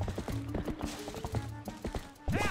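Horse hooves clip-clop steadily in The Legend of Zelda: Twilight Princess HD, a quick, regular rhythm of close hoof hits with a brief whinny-like sound at the end.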